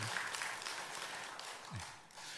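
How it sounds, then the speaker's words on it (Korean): Faint, distant applause from a church congregation at an early-morning Korean prayer service, steady and soft throughout the short moment. "같이 박수로 응원해 주도록 하겠습니다"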